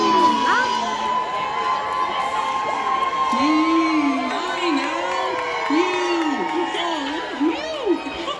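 Children's audience at a live musical show in Orlando cheering and yelling, a continuous excited roar with whoops and high shouts, while a performer's voice rings out over the crowd.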